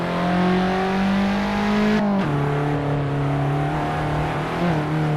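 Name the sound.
race car engine revving in video game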